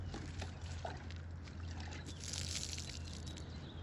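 Water pours from a container onto small tomato plants outdoors, a steady soft splashing and trickling over a constant low hum, with no voices.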